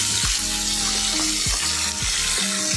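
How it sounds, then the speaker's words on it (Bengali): Pabda fish rubbed with turmeric and salt fry in hot oil, a loud, dense sizzle with a few spattering pops, close and constant. "হলুদ লবণ মাখা মাছগুলি এখন ভেজে নিব"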